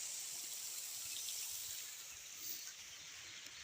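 Water from a burst pipe rushes steadily into a canal, a constant faint hiss and trickle with no voices over it.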